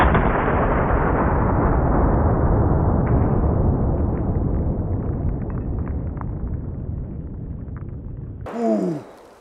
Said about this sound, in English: That's a 338 Lapua, 250 grain full metal jacket.